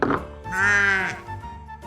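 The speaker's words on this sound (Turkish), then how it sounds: "Koyun karada yaşar ve ot yer." Toy sheep from an educational game gives a single loud electronic bleat lasting about a second, with harmonic wavering tones, set between short bits of nearby talk.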